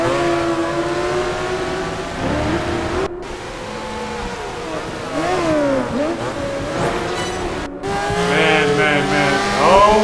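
Racing motorbikes in the Project Gotham Racing 4 video game, high engines revving continuously with rising and falling pitch as gears shift, near and loud, with brief drops between bursts.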